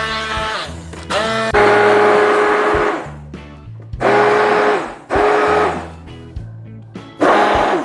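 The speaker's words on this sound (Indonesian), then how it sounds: "nanasnya akan saya haluskan. Ini saya pakai hand blender." A hand blender purees pineapple in a loud whirring run, then stops and starts again in several short bursts of high-pitched motor whine separated by brief pauses.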